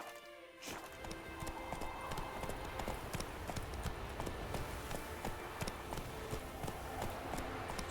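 Roach, a horse in The Witcher 3 video game, clip-clops along at a steady brisk pace, the sharp hoof strikes close and evenly repeated over a continuous game ambience, with no talking.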